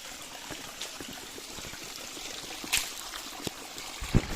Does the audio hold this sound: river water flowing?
yes